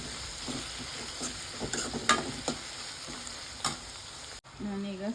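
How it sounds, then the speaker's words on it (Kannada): Chopped onions, lightly salted, fry in a pan as the base for a cauliflower egg bhurji, giving a steady close sizzle broken by a few sharp stirring scrapes and clinks, with no talking. "ಕೆಂಪಗಾಗೋವರೆಗೂ ಹುರ್ಕೊಳ್ಳಿ."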